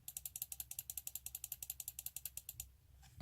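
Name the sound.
Zowie Gear EC2-B gaming mouse button clicks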